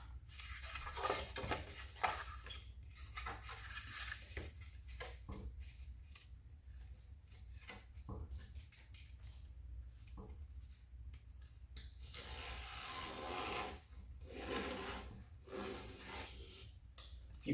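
Ground tiles cut with a homemade cutting jig, giving repeated scraping, rubbing strokes with light clatter at a steady moderate level throughout, with no talk.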